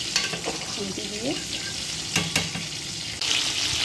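Potatoes and onions sizzle in a pan while being stirred, with a steady crackle of frying broken by a few sharp scraping clacks from a utensil against the pan.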